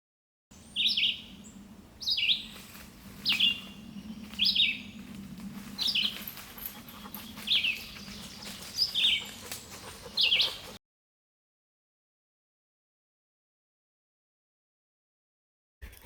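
Female sparrow singing from a bush overhead during a spring walk, about eight short bright chirping phrases repeated every second or so over a low steady hum, then silence.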